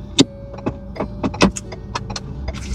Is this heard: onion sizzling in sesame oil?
no